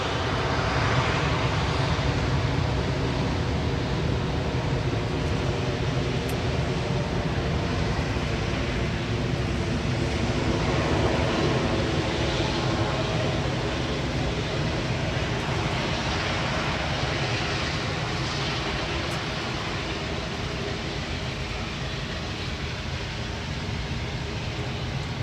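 A Boeing 787-8 Dreamliner's jet engines spool up for departure at Manchester Airport, a steady, loud broadband roar with a low rumble that holds evenly throughout, distant and continuous with no talk.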